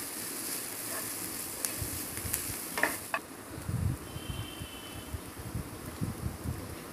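Grated raw banana for vazhakai podimas tipped into a pan with green chilli and stirred, giving a soft scraping, rustling stir with faint sizzle and a few light clinks, alone and fairly quiet.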